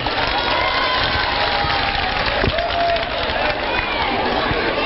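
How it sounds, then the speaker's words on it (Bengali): Loud audience applause and cheering from a crowd at a school dance performance event in Malda, a broad steady wash of clapping that fills the whole stretch without pause. "দেবশ্রী ম্যাডামের জন্য একটা জোরে হাততালি, জোরে"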